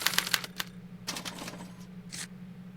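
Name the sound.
typewriter printing a punch card in Back to the Future video game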